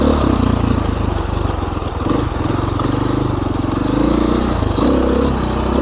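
A KTM 500 dirt bike rumbles along a bumpy forest trail, its single-cylinder engine droning loud and close with pulsing throttle changes and rattling chassis, no voices.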